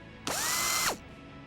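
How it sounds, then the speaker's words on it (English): A small hole drilled through a vehicle roof for a coax cable: one short, bright power-drill whine that rises, holds for about half a second and cuts off, heard alone and fairly close. "Drill a small coax hole."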